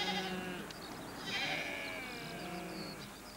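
A farm flock of sheep in Russia bleats in several overlapping, wavering calls, fairly close and clear, with no talk.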